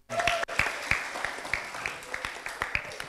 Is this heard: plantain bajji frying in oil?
no